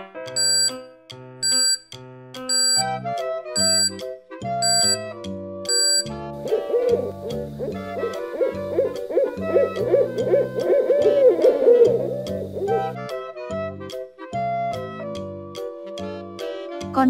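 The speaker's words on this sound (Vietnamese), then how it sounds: "Con cú mèo." An owl hoots repeatedly over bright, steady background music in a children's animal-sounds lesson, the calls clear and fairly close.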